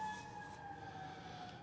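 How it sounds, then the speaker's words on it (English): An ambulance siren wails faintly in the distance, a steady tone holding over low background rumble with no speech. "There's the ambulance taking it away."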